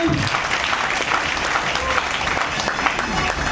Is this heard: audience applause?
yes